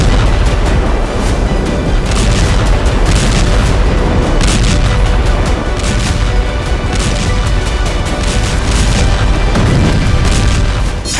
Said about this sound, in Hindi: ईरान की राजधानी तेहरान में धमाका हुआ